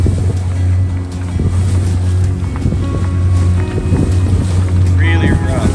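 A sailboat motoring solo into rough, broken seas in Queen Charlotte Strait gives a steady low engine drone under buffeting wind and rushing water, loud and close, with a brief high squeak near the end.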